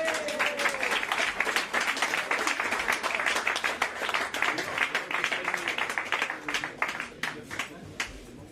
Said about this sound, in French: Je donne la parole à Béatrice, on l'applaudit très fort